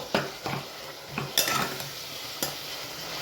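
Onions and tomatoes sauté in a pan for chicken gravy, as a spoon stirs and knocks against the pan in a few distinct close clacks over a soft, low sizzle.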